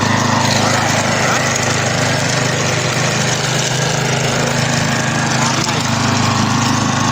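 Grass-cutting machine running steadily on a garden job in Dubai, a loud continuous engine drone with a buzzing hum throughout, with no break or change in pitch.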